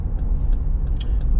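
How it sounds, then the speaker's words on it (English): A 2021 Dodge Durango SXT Plus cruises on the highway, its steady road and engine rumble filling the cabin with a few faint higher ticks, no voices heard. "I'm gonna drive it down for a few exits, you know."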